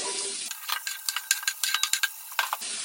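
Onions and carrots sautéing in a pan after a splash of vinegar: a quiet sizzle punctuated by a quick run of scraping, clicking stir strokes in the middle, close and with no voices.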